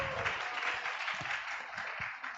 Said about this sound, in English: Let's please give them a warm round of applause